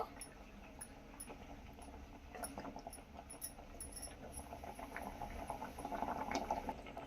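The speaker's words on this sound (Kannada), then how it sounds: "ಮೀನು ಸೇರಿಸಿ ಮೇಲೆ ಸ್ವಲ್ಪ ಕುದಿಸ್ಕೋಬೇಕ್ರಿ ಜಾಸ್ತಿ ಕುದಿಸ್ಕೊಳಂಗಿಲ್ಲ" Fish sambar simmering in a pot on a stove gives a steady, quiet bubbling and popping that runs unbroken and swells slightly toward the end, with no voices.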